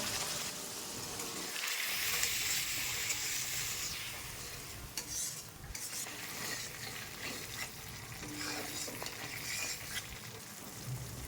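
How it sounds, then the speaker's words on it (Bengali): Masala with Kashmiri red chilli powder and a splash of water sizzles and is stirred in a pan for a spicy parshe fish curry, with steady frying hiss and intermittent spoon scrapes. "একটু জল দিয়ে মশলাটা ভালো করে কষিয়ে নেবো"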